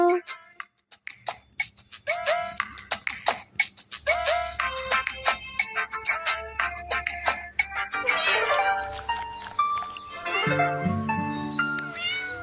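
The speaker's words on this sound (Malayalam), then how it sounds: "കൊച്ചുനാവ പൊള്ളിയപ്പോൾ പാവം പൂച്ച കേണു" Repeated cat meows, high and plaintive, ring out over a sung Malayalam children's nursery rhyme with instruments; a voice also sings meow-like syllables.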